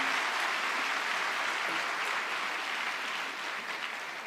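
A church congregation claps steadily throughout, a dense, even wash of applause that fades slightly toward the end.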